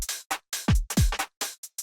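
UK garage two-step drum pattern with deep pitched kicks and crisp snappy hits placed on syncopated offbeats, about a dozen sharp dry hits in under two seconds, loud and alone.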